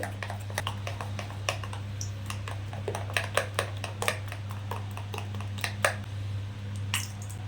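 Batter for Bengali potato chops (alur chop) being whisked in a bowl, a steady run of quick light ticks and taps over a constant low hum, close and fairly quiet.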